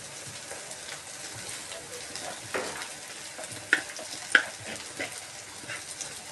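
Soaked poha with turmeric being stirred in a frying pan, a soft continuous sizzle with scraping stir sounds and a couple of sharper clinks of the spoon against the pan.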